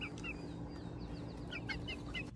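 A young Polish chicken, not yet known as rooster or hen, gives a series of soft clucks and chirps close by over a steady low outdoor hum.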